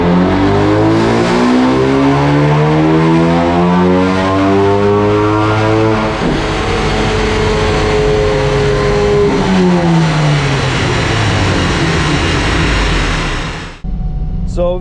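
A tuned Ford Focus RS making about 423 brake horsepower revs hard through the gears on a power pull, loud rising engine notes with gear-change dips, then a sudden cut-off near the end.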